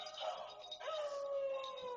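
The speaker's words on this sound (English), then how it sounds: "Hey, Abby, look at the puppy." A puppy whimpers and howls in freezing weather, a thin, rising and falling cry that carries on steadily for the whole two seconds, close and fairly loud, with no talk over it.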